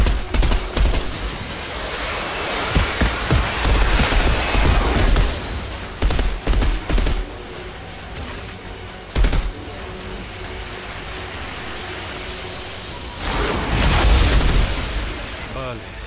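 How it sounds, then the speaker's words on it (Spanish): Bursts of rapid gunfire and booming shots from insurgents in the video game Outriders Worldslayer crack loudly, stopping and starting in waves, with a voice talking at times underneath. "oímos disparos. Son insurgentes."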